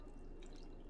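Hot broth poured over beef for pho gives a faint, continuous trickle and dribble of liquid splashing into a bowl, close by and quiet, with no talk.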